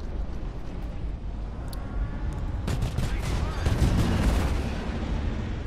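Behring Sawbuck ballistic repeater firing in the Star Citizen video game, rapid sustained bursts of heavy gunfire with booming impacts and rumble, loud and continuous under a voice.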